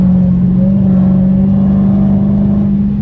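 A Dodge SRT Hellcat in track mode gives out a loud, steady engine drone from inside the car, a deep constant hum that holds at one pitch with no clear rise.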